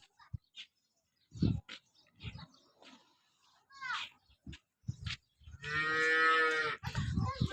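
Cattle moo in a village in Tharad taluka, Banaskantha district. Scattered animal and handling noises come first, then one loud, sustained, nearby moo, followed by shorter sounds.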